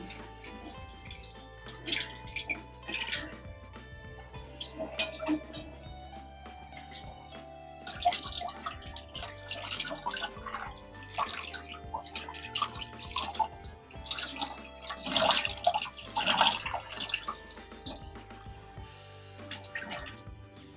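Silver pomfret fish are washed under running water, giving intermittent splashes, drips and trickles that rise and fall close by, with no talking.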